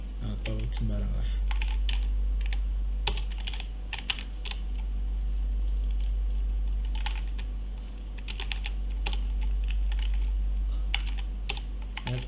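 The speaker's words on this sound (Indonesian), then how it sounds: "Ya, ketik sembarang aja ya," Someone types on a computer keyboard, with steady irregular key clicks throughout over a low hum. A voice talks now and then over the keys.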